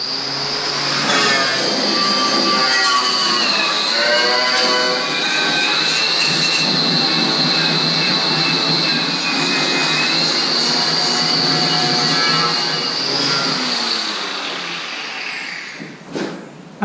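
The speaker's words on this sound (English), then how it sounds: "let's get the wire wheel out" Wire wheel grinding rust off a Land Rover Discovery 1 truck chassis, a loud continuous high-pitched whine with harsh scraping texture, steady for about thirteen seconds before spinning down.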